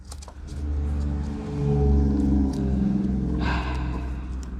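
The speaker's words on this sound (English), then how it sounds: "big loud truck, because always big loud truck." A big loud truck rumbles past outside, a steady low engine drone swelling as it nears, peaking mid-pass and fading, heard alone at moderate distance.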